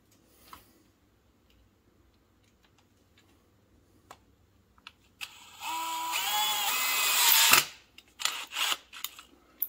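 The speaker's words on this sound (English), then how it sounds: "we're gonna run a wood screw right down on the top, kind of just next to the center pin there" A cordless drill drives a wood screw into the top of the piece, a whirring burst lasting a couple of seconds that rises in pitch, set between scattered light ticks and clicks, close by with no talk.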